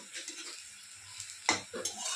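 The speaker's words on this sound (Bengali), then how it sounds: "এটা বেরেস্তা পেঁয়াজ ভাজছি।" Sliced onions fry in oil for beresta, crisp fried onions for chicken biryani, giving a soft sizzle broken by a few spatula scrapes and light clinks against the pan.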